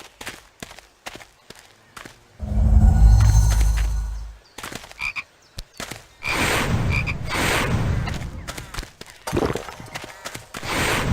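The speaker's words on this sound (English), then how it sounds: "You'd have to knock the frog out before you can catch it." Chocolate frog in the Harry Potter and the Chamber of Secrets PS2 game gives short croaks amid loud game effects, including a deep booming burst and scattered thumps and footsteps, with intermittent busy noise and no clear speech.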